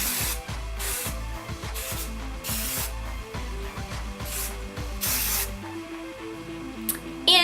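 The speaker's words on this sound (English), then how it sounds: "Then I like to spray the crap out of it some more." Repeated short bursts of a spray bottle misting product onto hair, about eight hissing sprays in steady rhythm, close and fairly quiet with no talking.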